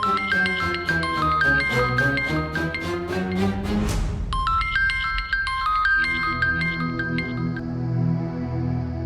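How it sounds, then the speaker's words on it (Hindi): A phone rings with a bright, tinkling electronic melody that repeats several cycles and then shifts pattern midway, sounding steady and close with no voices over it. "वो फोन बज रहा है,"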